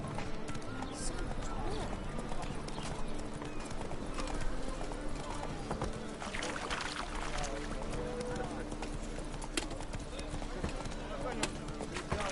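Roach the horse's hooves clip-clop steadily in the video game The Witcher 3, a continuous trotting rhythm under game music, ambience and occasional male speech.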